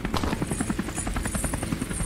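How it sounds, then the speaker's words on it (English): A helicopter in a co-op climbing video game gives off a loud, steady rotor chop, a fast, even thumping that fills the whole moment with no voices over it. "There's no way there's a helicopter."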